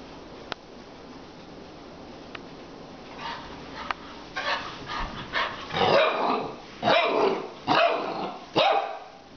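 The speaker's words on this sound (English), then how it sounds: "What a ferocious bark." A puppy lets out several sharp, high yipping barks in quick succession, growing louder toward the end, close by in a quiet indoor room.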